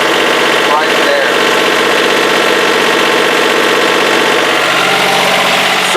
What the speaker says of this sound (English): Sorry about the noise from the generator.